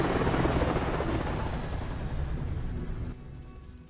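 A helicopter in the video game Planet Explorers whirs loudly with a steady rotor drone, fading somewhat toward the end and dropping off abruptly near the close.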